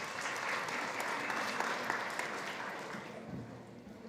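Enthusiastic audience applause at a food safety and traceability panel as the CEO of Wholechain joins the stage, a dense sustained wash of clapping that fades slightly toward the end.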